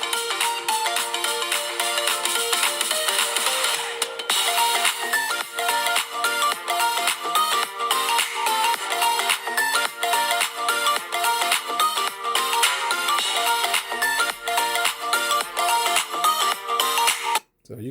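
A melodic ringtone plays loud and continuous through the speakers of a Samsung Galaxy Note 10 Plus for about seventeen seconds, then cuts off abruptly.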